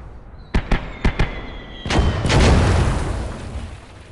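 A 122 mm artillery barrage in Close Combat: Gates of Hell, four sharp distant reports in quick succession followed by a heavy, rolling impact rumble that swells and slowly fades.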